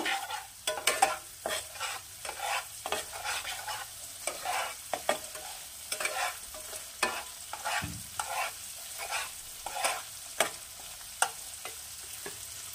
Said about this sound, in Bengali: হিংটা দিয়ে একটু নাড়াচাড়া করে নেব।